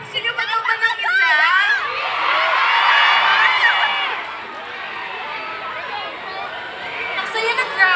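Concert crowd in Calgary cheering for a pop group, a dense roar of high-pitched screams and shouts swelling and holding, loud and close, with voices chattering in the mix.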